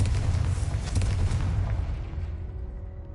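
A Confringo fire spell explodes in the Hogwarts Legacy video game, a deep, loud boom with crackling burst that rumbles and fades out over a few seconds.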